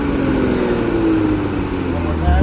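A 2020 Toyota Supra fitted with an HKS exhaust holds a steady, loud engine drone with a rising rev toward the end, while a voice talks over it.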